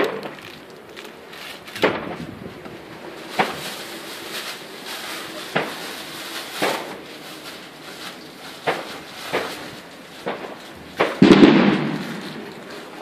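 Fireworks and firecrackers go off outdoors in a series of sharp, loud bangs, roughly a dozen spaced irregularly over several seconds, with a denser burst of crackling near the end.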